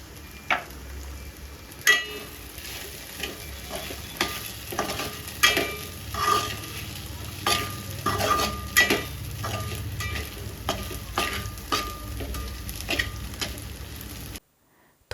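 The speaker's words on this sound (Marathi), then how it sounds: "आता त्यात शेंगदाण्याचे कूट घाला आणि परतून घ्या" Sabudana khichdi tossed with crushed peanuts in a hot pan gives a soft continuous sizzle, broken by irregular sharp clicks and scrapes of the spatula against the pan, close and moderate in level, ending abruptly.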